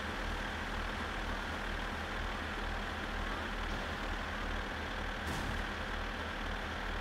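A tractor engine in the driving game My Summer Car runs at a steady, close idle, a continuous low rumble with no breaks for the whole stretch and no talking.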